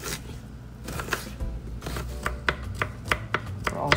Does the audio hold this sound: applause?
no